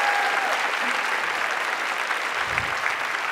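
A large audience at a peace prize lecture and award ceremony in Sydney applauds steadily, a full, continuous wash of clapping that holds its level from start to finish.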